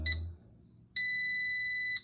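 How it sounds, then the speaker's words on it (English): A darkroom timer gives a short electronic beep, then a steady high tone that lasts about a second, heard close and clear with no talk. "Okay, it beeps"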